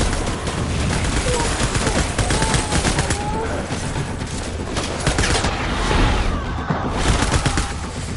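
Dense, continuous gunfire from the PS5 game Death Stranding on its hardest difficulty: loud, rapid overlapping shots and bursts fill the whole stretch with barely a pause.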